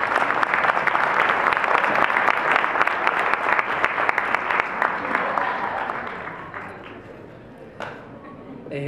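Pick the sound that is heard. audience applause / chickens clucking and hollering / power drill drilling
audience applause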